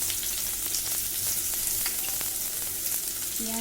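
Chopped onion with garlic and ginger paste frying in hot oil over a lowered gas flame, a steady close sizzle running the whole time with scattered crackles and a brief stirring clatter near the end.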